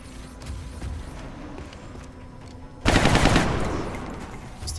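A loud burst of automatic fire erupts in XCOM Enemy Within, several rapid shots following a quieter stretch of ambient game sound, then decaying into a lingering rumble.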